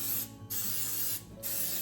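Two short hissing bursts of cooking spray coat the inside of a muffin tin for banana nut muffins, each spray a bright sustained hiss separated by a brief pause, close and clear.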